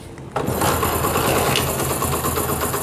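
A Honda CD70 Euro2 motorcycle engine, with freshly adjusted tappets, catches after a brief quiet moment and settles into a steady, close, even idle.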